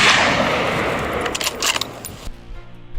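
Gunshots during a wild boar hunt on a farm, a burst of sharp cracks outdoors with a loud rushing onset that fades, then a few scattered reports before it drops to quiet.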